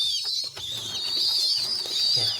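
A young pigeon, about 25 days old, being fed makes high, insistent squeaking begging calls close by, with soft rustling and a low coo underneath.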